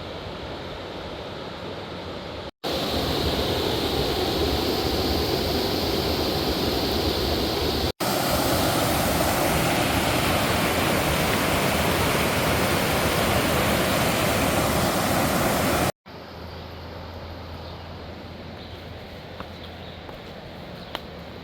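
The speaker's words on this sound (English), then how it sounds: "The river is very pretty right here next to the trail." A river flows beside a hiking trail on the Appalachian Trail, giving a loud, steady, broadband rush that fills the whole clip and holds even between a few abrupt level jumps.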